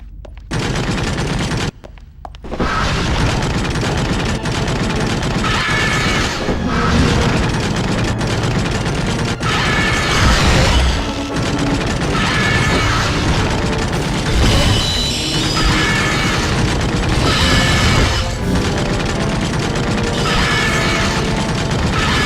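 Gatling gun firing nonstop in the Van Helsing video game, a loud, dense mechanical rattle of rapid shots running almost the whole time, with brief booms and impacts layered over it.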